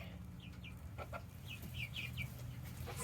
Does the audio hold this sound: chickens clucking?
yes